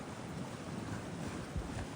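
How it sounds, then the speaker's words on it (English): Ocean surf rolls in at a Bora Bora resort beside an overwater suite on a very windy day, a low rumbling wash of waves with gusting wind noise and a slight swell near the end. "You can see the waves crashing."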